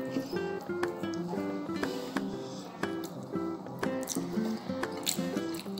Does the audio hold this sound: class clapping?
no